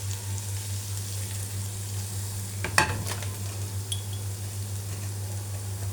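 Garlic and coriander fry in a pan for Egyptian molokhia, a steady soft sizzle with a brief stirring clatter partway through and a low hum underneath.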